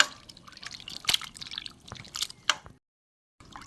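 Paneer is squeezed by hand as its water drains away, making wet squishing and dripping sounds in irregular bursts, close and fairly quiet, then a short silence before the squelching resumes.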